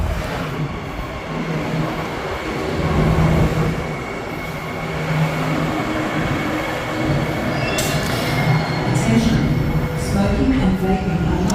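A train rumbles steadily into East Perth Station, with wheels squealing faintly over the constant roar and a voice talking beneath it.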